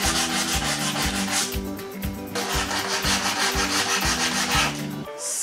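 Hand-scuffing a wooden bench surface, worn off in random spots and around curved corners, makes steady back-and-forth rubbing strokes, close and continuous, over a rhythmic backing of music.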